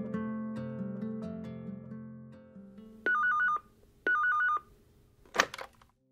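A telephone rings in two short bursts of trilling electronic tones inside an audiobook, following a sustained musical passage, then a brief click at the end; no voices.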